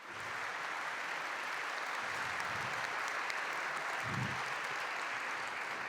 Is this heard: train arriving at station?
no